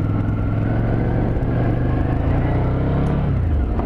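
Ducati Scrambler motorcycle riding at sunset, with a steady, loud engine rumble throughout and a low pitch that shifts as the bike changes speed near the end.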